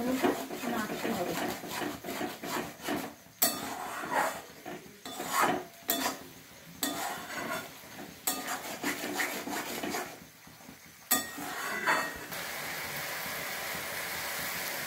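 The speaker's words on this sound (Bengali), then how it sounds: "এবার আমি এর মধ্যে দিয়ে দেব টমেটো পেস্টটা। দিয়ে ভালো মতো নাড়তে হবে।" A spoon works tomato paste around a cooking pot, making a series of quiet, irregular scraping and rubbing strokes with short gaps between them.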